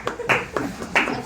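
A small crowd at a French stand-up comedy show claps in a few separate, loud bursts of hand claps, spaced out and uneven rather than sustained.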